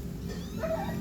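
A cat gives a short, close meow over a dense low background rumble, with no voices heard.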